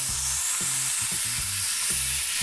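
A burger patty smashed flat in a hot frying pan gives a loud, continuous hissing sizzle, with a few low scraping knocks from the spatula pressing down.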